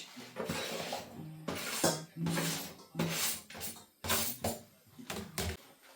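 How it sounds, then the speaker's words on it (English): Chopped vegetables go into a pan for vegetable soup, a series of close clattering knocks and scrapes of utensil against pan arriving in irregular bursts with short pauses between. "Pop this into the pan with the rest of the veg."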